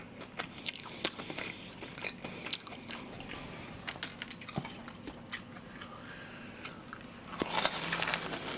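Crispy tonkatsu pork cutlet from a mukbang meal is bitten and chewed up close, giving a steady run of sharp, crackly crunches that swell near the end, with no talking.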